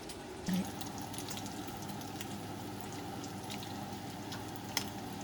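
Bacon frying in a pan at breakfast, a soft steady sizzle with faint crackles and a light clink from stirring and flipping. It is quiet and close, and no one speaks.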